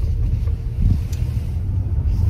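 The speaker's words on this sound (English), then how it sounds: "So now that Amber's driving, she can give us her actual thoughts and opinions about the vehicle." Ford Mustang Mach-E GT electric car on the road, a steady low rumble of tyre and road noise heard from inside the cabin, with no voices.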